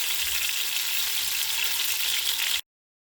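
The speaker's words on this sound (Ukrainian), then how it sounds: "і обсмажимо з цієї сторони" Steady crackling sizzle of cabbage patties frying in a hot pan, close and even throughout, cutting off abruptly near the end.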